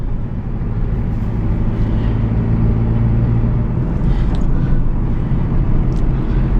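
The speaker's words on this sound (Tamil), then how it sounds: "ஃபோர்த்து கியர் போட்டு ஆக்சிலேட்டர் கொடுத்துருக்குறேன் வேகமாக வண்டி பிக்கப் எடுக்குது" An engine hums and rumbles steadily from inside a car accelerating in fourth gear while overtaking, a continuous low drone with road noise and no talking.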